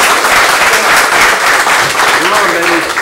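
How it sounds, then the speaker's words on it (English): A seminar audience claps loudly for an instructor about to teach self-defense technique, with continuous close applause and a voice speaking over it near the end. "Everybody give Chad Doolin a round of applause."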